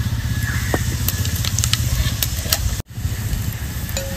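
Dry red chili with whole cumin and whole garam masala spices sizzles steadily in hot oil for a clay-pot handi mutton, a close, continuous frying hiss with scattered crackles and a brief dropout near the end.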